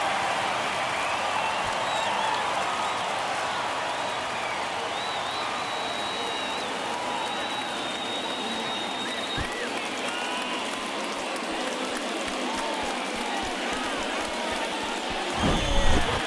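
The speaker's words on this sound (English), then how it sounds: "That fires up the home crowd, and we're all square." Home crowd at a Detroit Tigers vs New York Mets postseason baseball game roaring after a game-tying home run, a sustained distant wash of cheering and applause that holds steady and swells briefly near the end.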